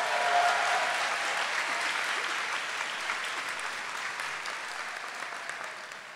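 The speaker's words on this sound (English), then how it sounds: "And another round of applause for Roland one more time" Broad, steady applause from a community college commencement audience, many hands clapping in a continuous wash that fades gently toward the end.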